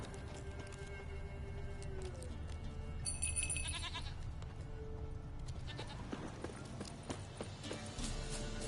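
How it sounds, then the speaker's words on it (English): A goat in The Witcher 3 bleats among game sounds, with clopping footsteps and shifting ambient noise, a few distinct bleats standing out over a steady background. "Found the goat."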